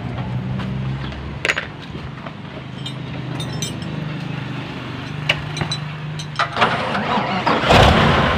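A dump truck, started from a small battery, cranks over briefly and then catches, settling into a steady mid-pitched diesel idle with clanks and knocks on top, closing in a louder burst near the end.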